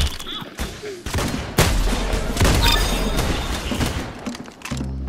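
Rapid gunfire from the shooter video game Arsenal, with dense, loud overlapping bursts of shots and booms rattling almost continuously and briefly cutting out near the end.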